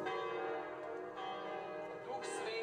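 A church bell rings at a wedding with a sustained, resonant tone that lingers, its overtones ringing steadily throughout with no talking.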